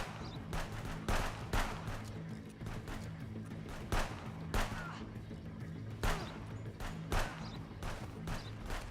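Gunfire in the video game Contraband Police cracks repeatedly in quick, irregular bursts of sharp shots over a steady low hum.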